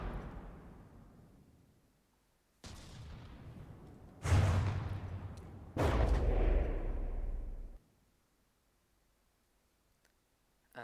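Shells fired from a small gun in the naval combat game From the Depths, heard as a few heavy, booming bursts with long rumbling tails that fade out, then near silence.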